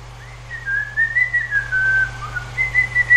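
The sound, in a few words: human whistling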